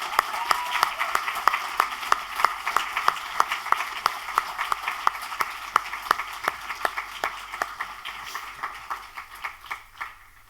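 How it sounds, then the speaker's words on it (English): A big round of audience applause fills an induction ceremony hall, steady many-handed clapping with some sharp individual claps standing out, gradually tapering off toward the end. "Let's just take a moment to give a big round of applause for everyone here."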